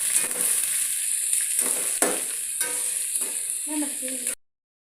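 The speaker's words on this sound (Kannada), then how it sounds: "ನೋಡಿದರೆ ಈ ಥರ ಉಳ್ಳಾಗಡ್ಡೆ ಫ್ರೈ ಮಾಡಬೇಕು." Chopped onions sizzle steadily in hot oil in a pan for lemon rice, a close continuous frying hiss with a few scraping stirs before it cuts off abruptly.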